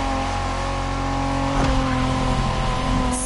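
A 1990s Honda NSX sports car driven in The Crew Motorfest: a steady, loud engine drone with sustained tonal harmonics, and a brief swell of extra noise midway as the car keeps running close.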